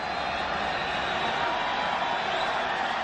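Steady, loud roar of a large baseball stadium crowd at a 1996 World Series game between the Yankees and Braves, building for a John Smoltz strikeout, with a voice talking faintly underneath.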